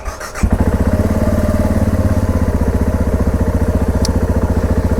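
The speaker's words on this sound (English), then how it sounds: "this bike sounds pretty good. Let's start her up." A 2013 Husqvarna TR650 single-cylinder motorcycle engine fires up, then settles into a loud, close, evenly thumping idle with no voices.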